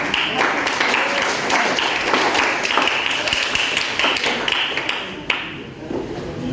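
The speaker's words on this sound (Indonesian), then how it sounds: "Tepuk tangan anak-anak untuk" Children clapping their hands in a classroom, a loose run of sharp claps from a small group with uneven rhythm, including one louder single clap near the end before the clapping thins out.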